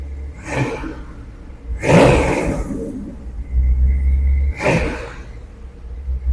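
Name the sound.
supercharged Chevy engine revving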